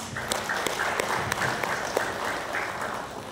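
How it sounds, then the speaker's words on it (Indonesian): Applause for the supervisors at a cooperative's annual members' meeting in Pontianak, a steady patter of many hands clapping in a hall. "Kita beri aplaus kepada pengawas"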